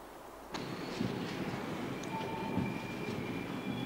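A train at the Gnigl railway station rumbles steadily nearby, starting abruptly with a sharp onset and holding a broad continuous roar with faint high metallic tones, no voices.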